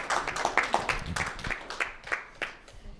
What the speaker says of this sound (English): if we could give a round of applause to 2/3 of our panel